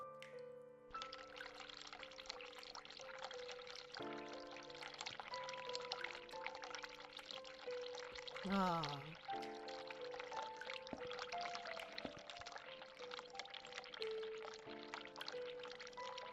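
Tap water runs steadily in the video game The Cat Lady, a continuous pouring stream over a droning musical background, with a brief voiced sound partway through.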